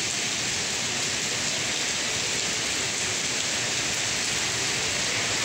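Steady, heavy rain pours down in a flood-hit area, a dense and constant hiss that stays loud throughout with no breaks and no voices.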